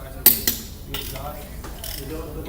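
Sharp mechanical clicks from a torque wrench tightening lug nuts on a car wheel during a tire rotation, a couple of distinct close clicks near the start followed by softer ratcheting and handling noise.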